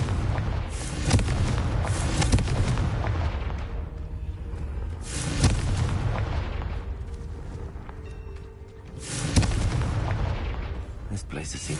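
In the Hogwarts Legacy video game, Confringo fire-blast spells set off repeated heavy booms and rumbling explosions, several in a row with long decaying tails, mixed with game noise.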